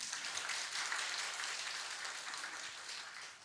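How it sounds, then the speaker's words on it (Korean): A church congregation bursts into sustained applause at a children's Sunday service, a dense wash of many hands clapping together that fades slightly toward the end. "감사합니다. 박수 한번 해요."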